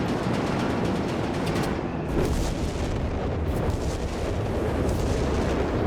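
Dense flak anti-aircraft fire in the video game Company of Heroes 3, heard as a continuous rumbling barrage of booms and bursts, loud and unbroken, with no talk.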